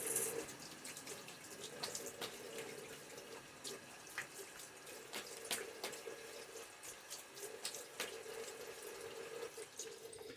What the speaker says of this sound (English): now I'm going to rinse